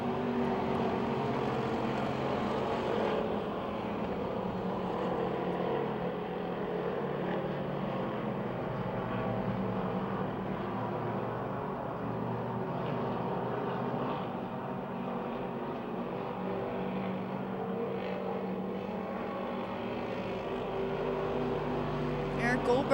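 Race cars run the back straightaway at Pennsylvania Motor Speedway, a continuous distant engine drone heard from afar beneath a track announcer's commentary.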